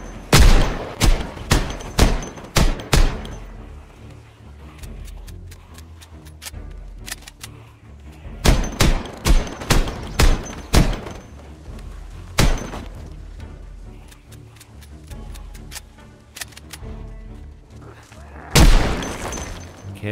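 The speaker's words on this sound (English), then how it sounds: "It is amazing what damage you can do with just one firearm and a bunch of ammo." A firearm fires repeatedly in Project Zomboid, with loud close shots in rapid clusters separated by short pauses and a heavy boom near the end.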